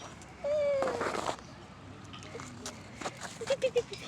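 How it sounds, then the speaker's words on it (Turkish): A cat meows once close by in a park, followed by quiet rustling and a few soft vocal sounds. "Bak kedi miyav."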